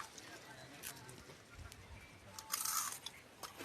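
Crunchy banana stalk being bitten and chewed up close, short crisp crunches scattered across the moment, with light voices murmuring in the background.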